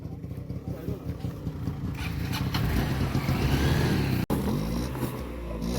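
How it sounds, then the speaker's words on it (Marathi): An auto rickshaw runs off-road along a raised field bund, its engine sound loud and continuous with a low rumble throughout, and voices are heard over it. "रिक्षाची ऑफरोडिंग 4x4 टाकलाय"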